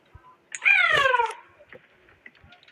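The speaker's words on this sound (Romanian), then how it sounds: "Pisică." A cat in the video game Baby in Yellow gives one loud, drawn-out meow with a rising and falling pitch, close and clear, followed by quiet background noise.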